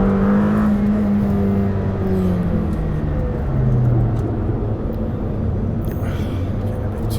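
Lamborghini Temerario engine on the move, a loud steady drone that rises and falls in pitch as it revs without being wound fully out, continuous and close throughout.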